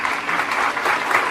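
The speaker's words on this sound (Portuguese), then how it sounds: "Uma salva de palmas." Steady applause from a church lecture audience, dense and continuous throughout, moderately loud with no break.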